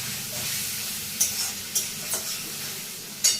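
Nigella seeds tempering in hot oil, a soft constant sizzle punctuated by a few sharp crackles and spoon scrapes against the pan.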